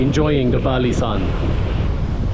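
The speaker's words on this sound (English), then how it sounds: "see that majestic waves of Indian Ocean kissing the Bali coastal towns" Surf of the Indian Ocean rolling onto Kuta beach in Bali, a steady broadband wash with wind noise throughout, while a person talks briefly over it near the start.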